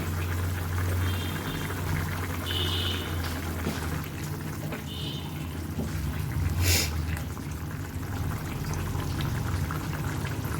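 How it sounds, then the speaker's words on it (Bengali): Prawn and broccoli curry bubbles in a covered pot, giving a continuous low boiling and simmering sound with a brief hiss partway through. "তরকারিটা আমার ফুটে গেছে।"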